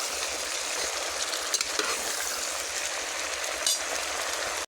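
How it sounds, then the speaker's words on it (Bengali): Potatoes and taro stolons stirred in a frying pan produce a dense, close sizzle with scraping and clattering stir strokes, steady throughout and cut off abruptly at the end, with no voices. "এখানে আলু কচুরলতি একসাথে সবগুলো দেওয়া হয়ে গেছে, এখন আমি ভালো করে নেড়ে দেবো"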